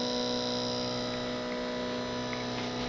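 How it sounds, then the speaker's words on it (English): A 4.4 V stepper motor overdriven at 12 V from an ATX computer power supply through an EasyDriver board gives a steady, even electrical hum with faint tonal whine, continuous and close, with no talking. "Motor is turning"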